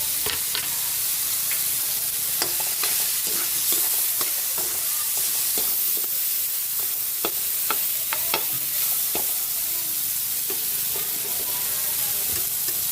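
Pork and tomato sautéing for ginisang munggo, a steady close sizzle and fry with repeated scrapes and clacks of a utensil stirring the pan throughout.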